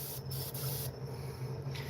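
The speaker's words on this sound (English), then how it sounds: "And then I got the spray on the wing nut." An aerosol spray can hisses onto a wing nut in a continuous close, bright spray that shifts slightly in tone over two seconds, with no talk.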